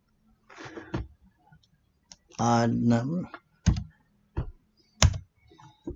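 Mouse clicks on a computer running cargo loading and trimming software, several sharp isolated clicks spread across the stretch, close and crisp, with a person speaking between them.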